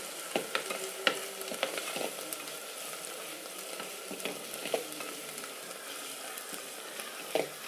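Ginger-garlic paste, about 50 grams, fries over a low flame in a pan while it is stirred now and then. A soft, steady sizzle carries light scraping clicks from the spoon, and no one speaks.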